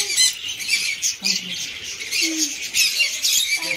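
Birds at a pet sanctuary squawk and chirp in quick, repeated bursts, close by and fairly loud, with faint voices in the background.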